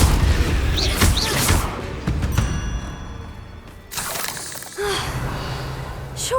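Confringo explosion spell cast in the video game Hogwarts Legacy: a run of loud, booming magical blasts with whooshing, ringing bursts, clustered together and then breaking out again near the end, with no voices.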